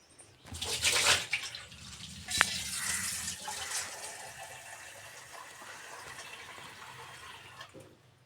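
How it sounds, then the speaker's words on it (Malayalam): Water gushes and splashes into a cooking pot on a gas stove for a second or two, then settles into a steady, softer running pour. "കുറച്ച് വെള്ളം ഒഴിച്ച് കൊടുക്കാം."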